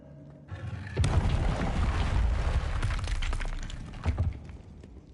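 A Bombarda blasting spell in Hogwarts Legacy goes off with a loud crashing explosion and shattering debris, a long rumbling burst followed by smaller cracks and a second impact near the end.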